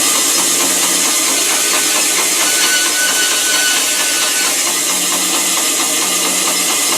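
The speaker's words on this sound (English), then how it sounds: "So now I'm going to cut this piece off" A power tool cutting a piece off during a clipped-wing Taylorcraft aircraft restoration: a loud, continuous high-pitched whine and grinding that holds steady for the whole stretch, close up with no talking.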